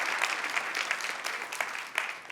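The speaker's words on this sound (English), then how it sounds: "Yeah, you can clap." Keynote audience at a tech conference applauding, a dense, fairly loud wash of many hands clapping throughout with no talk over it.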